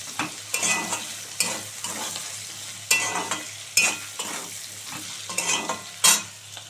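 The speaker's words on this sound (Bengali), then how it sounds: "আলু ভাজা হয়ে গেল" Potatoes frying in a pan with salt and turmeric, stirred repeatedly. Steady close sizzle is broken by sharp scraping stirs about every second, with no talk.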